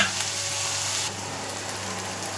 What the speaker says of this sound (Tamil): இப்போது நல்லா வெங்காயம் வதங்கி வந்திருக்கு பாருங்கள்